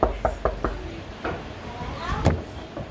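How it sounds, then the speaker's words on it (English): A quick series of about four knocks on a door opens a told story about a wolf at the little pigs' house, followed by scattered softer taps under faint voices in the room. "he knocked on the door"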